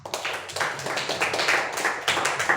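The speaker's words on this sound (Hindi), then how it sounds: "उनके लिए तो एक बार जोरदार आप सभी तालियां बजाइए।" Students clap together in a classroom, giving a brisk, energetic burst of many hands with a fast uneven rhythm that stays steady and close throughout, with no talk over it.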